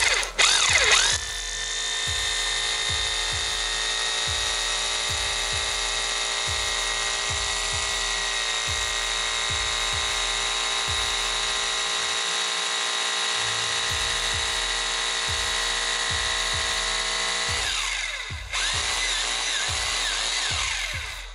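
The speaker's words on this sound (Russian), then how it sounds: "Теперь давайте переводим наш режим сверления и долбления. И посмотрим, как он сверлит нам отверстие." A Bosch GBH 2-26 DRE hammer drill runs steadily for about twenty seconds, a loud whining motor with rapid rhythmic hammering as it bores into a brick wall, stopping briefly near the end.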